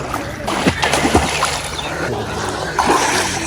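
Water splashes and sloshes loudly at close range as someone dives into a village pond to catch fish, with irregular surges and trickles throughout.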